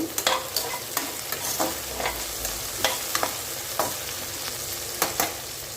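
Green turkey berries sauté in oil in a pan, with a steady close sizzle broken by repeated scraping stirs of a spoon, and no voices.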